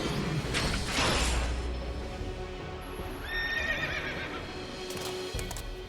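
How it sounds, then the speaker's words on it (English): A horse neighs loudly with clip-clopping hooves and whooshing effects as the summoned Odin transforms in the video game Final Fantasy XIII, with a dense layer of game sound throughout. "Odin turns into a horse."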